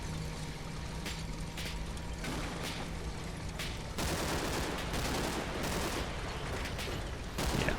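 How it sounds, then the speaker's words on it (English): MG42 machine gun fire in a Combat Mission: Battle for Normandy battle, rapid sharp bursts from mid-distance layered over continuous battlefield rumble, growing denser and louder midway through. "even just MG42 is opening up"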